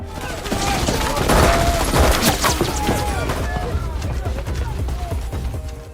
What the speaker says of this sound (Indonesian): pasukan CIA menyerangnya lebih dulu menggunakan senjata mereka